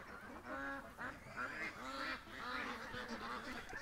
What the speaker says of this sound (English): Yeah, the Canada geese are down at the creek.